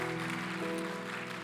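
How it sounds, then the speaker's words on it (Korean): A congregation claps together after a sermon at a Friday worship service in a church, the clapping blending with sustained music from instruments and a warm hum beneath it. "우리 박수 한번 쳐드리겠습니다"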